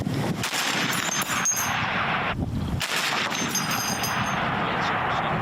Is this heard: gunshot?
yes